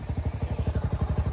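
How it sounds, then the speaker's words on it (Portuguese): Small 80cc motorized trail bike engine running steadily, a fast, even low-pitched putter with regular pulsing beats, loud and close with no other sounds over it. "Ó, meu pai com a moto de trilha."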